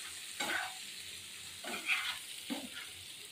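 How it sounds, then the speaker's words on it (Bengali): Egg, potato and onion frying in a pan with a soft sizzle, broken by three scraping stir strokes from a spatula, fairly quiet and close. "ডিম আলু পেঁয়াজ দিয়ে ভাজা, ডিম ভাজা"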